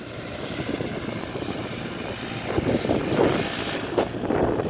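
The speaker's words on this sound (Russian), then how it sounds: "В целом опрыскиватель дует неплохо, задувает и на эту сторону." A fan-driven orchard sprayer blows spray through the rows of a pear orchard, a loud continuous broadband roar of rushing air that swells slightly toward the end, with no voices.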